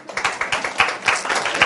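A small classroom audience at a design lecture claps briefly, a close, quick run of rhythmic claps lasting under two seconds.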